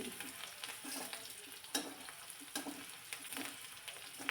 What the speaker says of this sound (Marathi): थोडासा लालसर कलर येपर्यंत कांदा मी परतून घेते